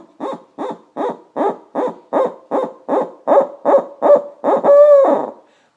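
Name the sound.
owl hoot imitated by blowing into cupped hands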